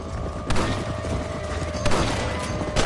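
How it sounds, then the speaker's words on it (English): Gunfire in Red Dead Redemption rings out against a dense, loud in-game background, with a few sharp shot bursts standing out over steady noise. "Good shooting, Mr. Marston."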